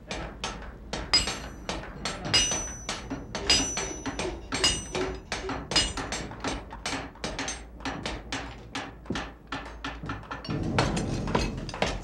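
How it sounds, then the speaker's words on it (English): Hammer blows forging a musket barrel at an old armory workshop, a steady run of sharp metallic strikes roughly every half second, fairly close and loud, with clanging overtones and no speech. "Forging the barrel, shaping the lock."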